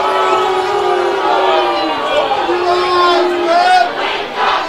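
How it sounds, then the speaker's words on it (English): A football crowd at a high school game shouts and jeers at the referees, a loud, sustained roar of many voices rising and falling together over a few seconds. "And the crowd lets the refs know."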